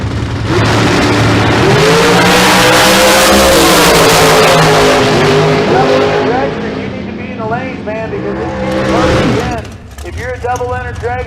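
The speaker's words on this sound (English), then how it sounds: "Chad Axford, 446, another of those super fast dragsters out here, alongside Bailey Nate." Dragsters launching at a bracket race at Famoso Dragstrip, loud roaring engines sweeping upward as the cars accelerate away, with an announcer talking over the racket.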